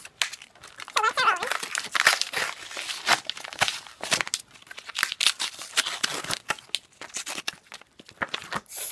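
Plastic goodie bag and Pokemon card packs being crinkled and torn open up close, a busy run of sharp crackling rustles and rips in irregular bursts.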